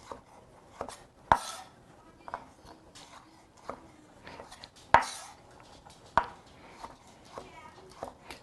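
A knife slices black olives on a cutting board, giving sharp, irregular taps and thuds at a quiet level, several crisp knocks spaced a second or so apart.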